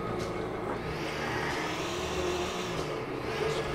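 An Audi A8L W12 engine in GTA IV hums steadily at a low, subdued level, a continuous drone that stays fairly quiet and even throughout with no talking over it.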